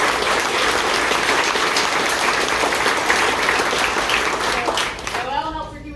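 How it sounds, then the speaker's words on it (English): A ribbon-cutting audience breaks into loud, sustained applause that fills the space, fading near the end as a voice begins speaking. "I want to call out Olivia Noel with a huge round of applause."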